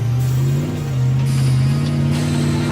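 Off-road rally car engine at the Rhino Charge 2009 competition in Kenya's Aberdare region, a steady, loud mid-pitched drone with a sustained rev that rises slightly partway through, close and continuous with no talk.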